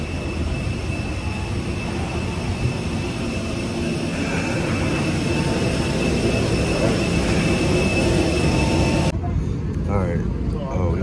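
Steady roar of jet engines and cabin air noise aboard an airplane during boarding, a broad continuous rumble that drops sharply near the end, with people talking underneath.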